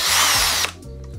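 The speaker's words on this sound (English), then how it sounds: "This is where my drill comes in handy, just to remove this to get access on the inside there." A power drill with a magnetic bit removes a part from a mountain bike pedal, giving a loud, close, high whine for about half a second before cutting out, leaving a low residual hum.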